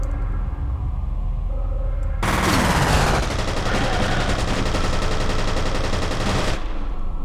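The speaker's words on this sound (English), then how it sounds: "That's like a shotgun, dude." Shotgun and automatic gunfire erupt in F.E.A.R., a loud, dense barrage that starts abruptly after a quieter stretch and continues in rapid bursts before cutting off.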